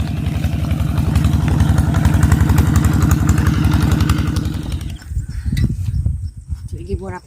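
A crop sprayer's engine, mounted on the back for spraying weeds in a corn field, runs loud and close with a steady throbbing rumble for about five seconds, then cuts out, leaving faint background sounds.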